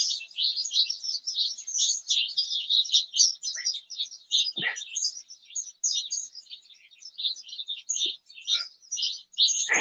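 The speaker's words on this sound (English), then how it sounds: "You hear the birds talking back to me?" Songbirds chirp and twitter continuously at a grand-opening venue, a dense high chorus of overlapping calls at moderate distance, with no voices.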